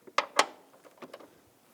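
A 13mm socket ratchet works a bolt inside the door of a 2010-2017 Chevrolet Equinox, giving two sharp clicks followed by a few softer, quieter ones in an otherwise still setting.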